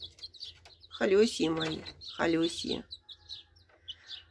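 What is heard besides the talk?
chicks chirping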